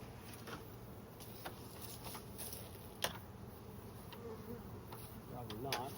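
A late-season swarm of bees settled on a bird's nest drones in a steady, faint buzz that carries through the whole clip. A few soft clicks and taps are heard nearby.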